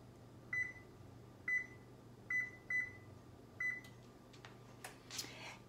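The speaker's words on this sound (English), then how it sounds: "now we are going to preheat the oven to 400 degrees" An oven being set to preheat to 400 degrees chirps five short, high electronic beeps at uneven spacing, close but faint over a low steady hum, followed by a few soft clicks and a brief rustle.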